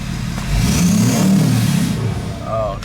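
A Powerstroke diesel truck engine revs up close, rumbling louder for a couple of seconds, easing off, then surging again briefly.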